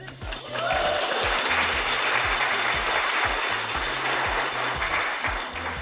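Recorded applause from a virtual cheering section at a Best Places to Work awards, steady clapping that starts abruptly and holds loud and even throughout, with no voices over it.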